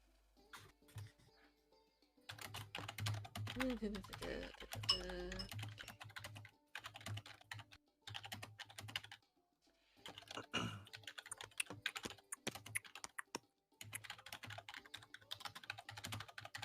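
Bursts of typing on a computer keyboard, quick irregular clacks stopping and starting across the stretch, with low background hum and faint pauses between runs.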